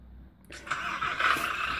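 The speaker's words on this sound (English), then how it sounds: "Turn on the engine." A truck engine in the Grand Truck Simulator video game cranks and catches, rising abruptly from near quiet into a steady mid-pitched rumble heard close up from inside the cab.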